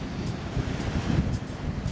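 Steady gusting wind buffets the microphone over a low, rough churn of Pacific Ocean surf on the California coast, continuous and fairly loud throughout.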